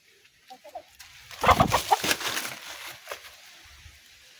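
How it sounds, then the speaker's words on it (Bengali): Free-range desi chickens, raised at home, give a few short clucks, then a louder flurry of squawking and flapping that fades into scattered softer clucks. "এগুলো দেশি মুরগি।"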